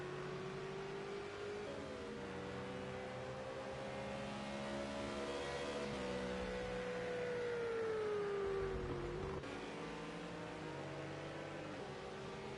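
Ferrari and McLaren race cars on the Dubai circuit in Project CARS 2, engines droning steadily with rising and falling pitch as they run side by side, a continuous close whine without talk.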